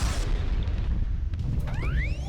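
Missiles explode in the Missile Command video game, a muffled boom and hiss followed by rising, sweeping electronic tones, loud and alone with no talking.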